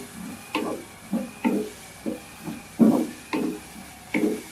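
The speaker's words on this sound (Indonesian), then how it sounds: "Kita tumis hingga harum dan juga keluar." Bay leaves and kaffir lime leaves being sautéed in a pan, heard as a steady series of about nine soft scraping stirs in an even rhythm over a faint sizzle, close and fairly quiet.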